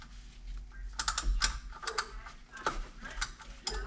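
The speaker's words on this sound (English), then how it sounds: "let me see if I'm able to get with my ratchet behind this AC line" A ratchet clicking close by as it works loose a pulley bolt behind the AC line on a New Edge Mustang Saleen S281 engine, in quick irregular bursts of ticks with brief pauses and no talking.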